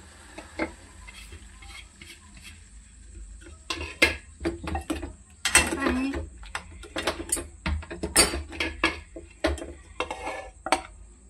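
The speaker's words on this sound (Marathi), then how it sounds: "मी अशा प्रकारे आंबे कापते।" Mangoes being cut with a knife for spicy-sweet fenugreek mango pickle: a run of close, sharp clicks and scrapes of blade on board and fruit, irregular and bunched, with a faint background hum and no talk.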